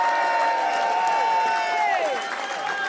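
A large rugby crowd applauds and cheers a popular substitute prop coming on during a Connacht match against Zebre, producing a loud, sustained wash of clapping and cheering throughout.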